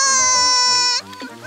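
An infant cries in a loud, sustained, high wail that breaks off and is followed by brief whimpering, close and with no talk over it.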